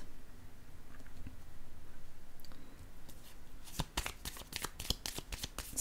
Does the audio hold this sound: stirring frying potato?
no